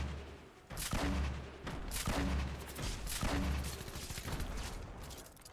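Gunfire in Fortnite from a machine pistol aimed at a falling supply drop, loud repeated bursts in a steady rhythm with heavy low thumps, no talk over it.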